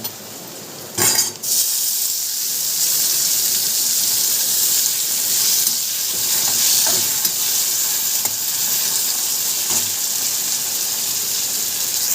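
Tomatoes sizzle steadily in a hot pan, a dense, even frying hiss that runs throughout, with a brief clatter of stirring near the start and a few soft scrapes later on.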